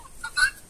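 Free-range chickens for sale cluck in short, faint bursts, with one slightly louder call near the middle and no talking.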